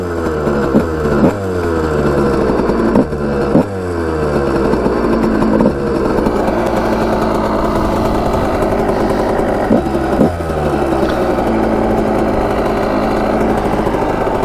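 A Suzuki RM125 two-stroke dirt bike engine running on 40-to-1 premix, loud and close, with several sharp throttle revs early on and then a steady, buzzy high-revving drone.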